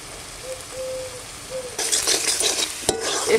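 Spices for strawberry chicken stir-fried in a village-style pan, starting with quiet low hum, then a loud burst of sizzling with scraping strokes and a sharp clack near the end.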